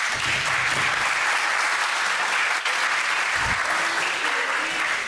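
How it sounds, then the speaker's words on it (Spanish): Audience at a national peacebuilding congress applauds the panel speakers, a dense, loud, steady wash of clapping that fills the room for about five seconds without letup. "Un fuerte aplauso para ellos."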